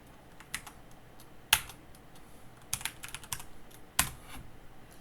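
Keystrokes on a computer keyboard, a few separate clicks and short bursts of typing, close and fairly quiet, with no talk over them.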